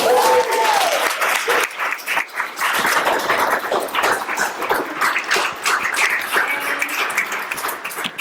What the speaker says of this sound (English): How about another round of applause for all of the fellows?